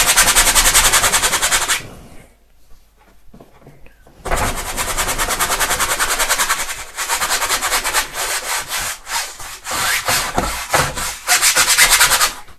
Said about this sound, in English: so I'm just going to scrub some of this paint on.